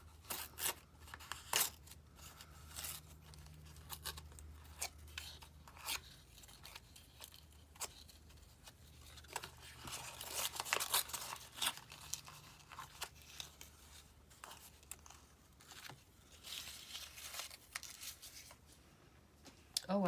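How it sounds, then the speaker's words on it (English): A large sheet of paper is torn by hand nearby, with irregular rips, crinkles and rustles spread over several seconds and quieter handling sounds in between. "Actually, I'm just going to tear it."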